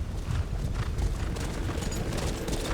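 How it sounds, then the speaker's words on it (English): A heavy, rumbling rush of many hooves in Skyrim, a dense continuous pounding like a herd galloping close by. "It sounds like an army of horses."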